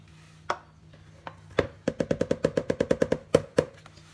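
Eggs and liquid vanilla whisked in a bowl for fluffy cookies, a quick run of about a dozen sharp, rhythmic clacks close up, following a few scattered taps.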